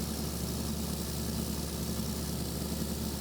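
A truck engine idles in the Farming Simulator 2015 video game as a low, steady, even hum that stays faint and unbroken throughout, with no voices.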